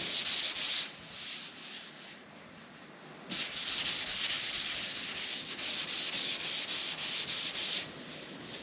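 Hand sanding with 320-grit sandpaper, a steady close scratchy rubbing that runs continuously in back-and-forth strokes, dropping briefly in level before resuming louder, with no talking.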